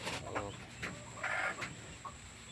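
A large pure Rhode Island rooster clucks in a farmyard, several short throaty clucks and calls at moderate distance over a faint steady background hum.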